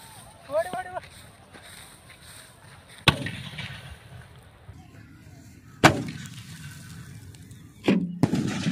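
Sky shot firework exploding under a can on sandy ground outdoors, three sharp loud bangs spaced a few seconds apart, with people talking between the blasts.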